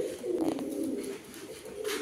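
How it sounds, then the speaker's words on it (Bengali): Fancy Khulna pigeons coo steadily up close, a continuous low throaty burble with rising and falling pulses and no talk over it. "চলেন আমরা আরেক পেয়ার কবুতর দেখাই"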